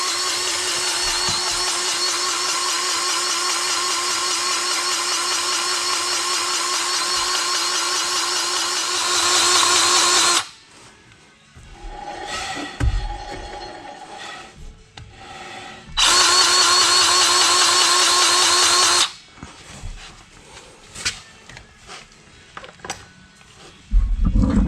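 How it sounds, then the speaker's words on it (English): An empty grease gun being pumped during trailer brake maintenance, giving a steady mechanical grinding whir that runs loud and continuous, stops, then returns for a few seconds, with quieter clicks and handling noises in the gaps. "You hear that? Grease gun's empty."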